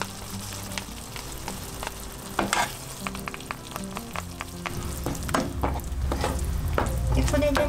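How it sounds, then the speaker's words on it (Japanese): Quinoa chili oil with gochujang and honey cooking in a pan, a steady close sizzle and frying hiss with scraping stir strokes throughout, growing slightly louder toward the end. "しばらくまたちょっと火を通して混ぜながらね、火を通していきます"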